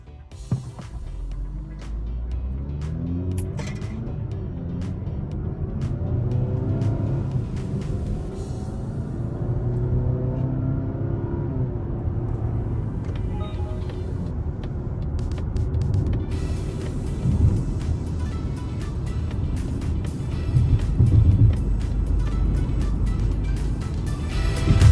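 A Mazda CX-60 engine hums and climbs through the revs, hitting 4,000 rpm as the car pulls away, rising and falling in pitch over a steady road rumble.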